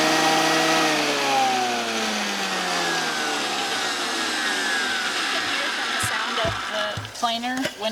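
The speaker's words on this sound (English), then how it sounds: "Planer when it's really making good contact." A wood planer blade cuts into a wooden board while it is being made into a gift box, giving a loud, continuous whirring roar whose pitch slowly falls under load. The noise breaks into a few knocks and clatters near the end.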